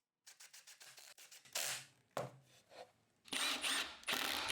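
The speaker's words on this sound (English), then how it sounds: "attach them with 1 3/4" stainless steel screws" Screws being power-driven with an impact driver or drill into glued, clamped wood parts, 1 3/4 inch stainless steel screws, in a series of loud close bursts with short pauses between them.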